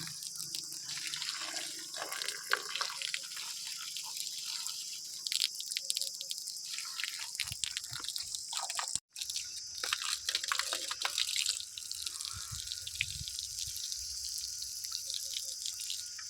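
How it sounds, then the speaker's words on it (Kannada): Water sprays steadily onto the walls of a newly built house for curing, a continuous hissing splash with a brief break midway and faint insect chirps in the background. "ಯಾರೂ ಇಲ್ಲ ಹಾಕೋರು ನಾನೇ ಹಾಕ್ಬೇಕು ಇವಾಗ ನೀರನ್ನ"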